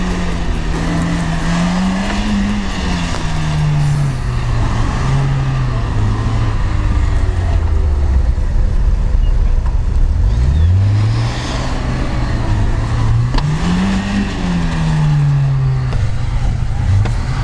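A stock Lada Niva SUV engine drones loudly and steadily at a sand quarry, its pitch rising and falling as it revs up and eases off several times.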